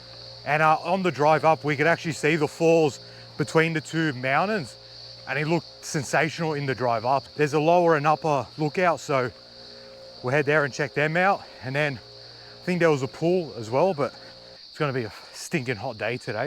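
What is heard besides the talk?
insects chirping in the Australian bush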